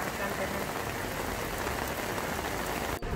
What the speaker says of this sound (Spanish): aún está lloviendo, pero hay bastante gente